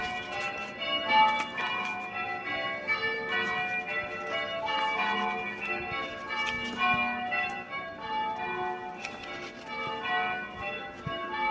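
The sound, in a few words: church bells ringing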